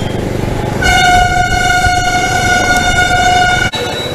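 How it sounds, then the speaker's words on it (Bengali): A freight train runs alongside a road near the Jharkhand border, heard from a moving bike; a loud, steady multi-tone horn blast lasts about three seconds over a continuous rumble of rail and traffic noise. "রেল লাইন আছে ট্রেন যাচ্ছে এই যে মালগাড়ি যাচ্ছে একটা এ পাশ দিয়ে"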